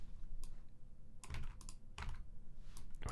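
Keys on a computer keyboard are tapped in short irregular bursts of soft, close clicks while an SQL join is written, with no talking.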